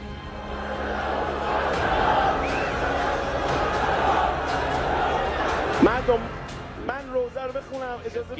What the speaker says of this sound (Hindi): ये नारे पूरे ईरान में गूंज रहे हैं